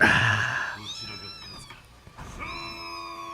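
A kitten meows with a few thin, high, drawn-out cries at moderate volume, with a faint low background rumble and no clear speech.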